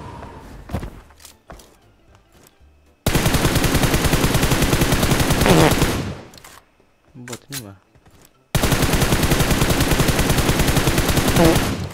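Bursts of rapid automatic gunfire from bots in a video game, two long loud sustained volleys separated by scattered single shots and thuds, with brief speech in between.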